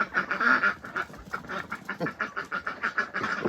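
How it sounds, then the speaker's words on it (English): Several ducks quack steadily in a repeated, fairly loud run of honking calls close by, with no one talking over them. "The ducks want to be involved here."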